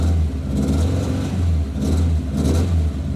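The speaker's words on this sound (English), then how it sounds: "So very, very cammy, very racy engine." A 1972 BMW 2002 racing engine with an aggressive cam runs loud and close, revving in rough, lumpy bursts with an uneven, choppy idle between blips.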